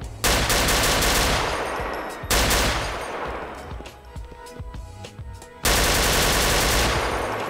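Rapid automatic gunfire in Grand Theft Auto IV, loud bursts of machine-gun fire broken by short pauses, some single shots scattered between, with no talking.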